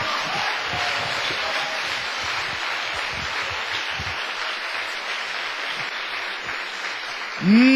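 A church congregation at a pastors' meeting claps together in sustained, even applause that fills the room, steady and dense from start to finish.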